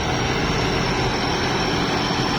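A Sit Charoen combine harvester works through a rice field, its engine and machinery giving an even, unbroken mechanical drone at moderate distance.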